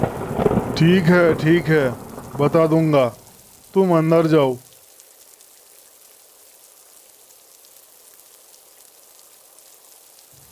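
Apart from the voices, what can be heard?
rain and thunder in a cartoon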